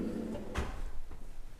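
A kitchen drawer in a contemporary house slides and bumps shut once, a short, soft thud close by against a low room hum.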